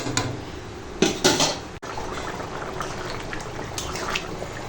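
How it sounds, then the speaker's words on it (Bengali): Chicken curry with potato and capsicum bubbles in a pot, a soft, steady simmering hiss with occasional louder gurgles and a faint clink of utensils. "দেখো মাংসটা এখন টকবক করে ফুটছে"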